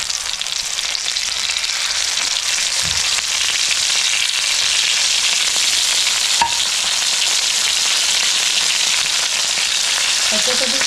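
Stuffed pomfret fish coated in masala and semolina fries on a hot griddle over a high flame, giving a steady, loud, close sizzle that runs unbroken throughout with a few faint crackles.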